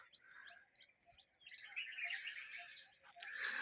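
Birds chirping and tweeting outdoors among trees in a village, with short repeated calls at first, then a denser, louder chorus of overlapping song that continues steadily throughout.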